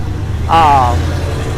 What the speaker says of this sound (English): loud truck driving by, and I don't like fighting with trucks